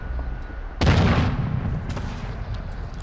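One heavy gunshot or blast crashes out in a Call of Duty Modern Warfare 2 match, loud and close with a rumbling decay, while steady background din runs throughout.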